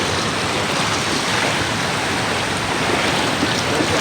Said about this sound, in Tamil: தண்ணி சரியான ஃபோர்ஸில் போயிட்டுருக்கு.